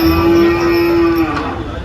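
A Holstein Friesian dairy cow at a cattle market in Dhule gives one long, loud, steady moo close by, fading out near the end.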